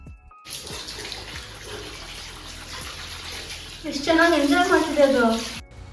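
Warm water poured over a small puppy during a bath, with a steady splashing wash through the first part that turns louder and fuller toward the end, while a voice with tonal harmonics rises over it near the close.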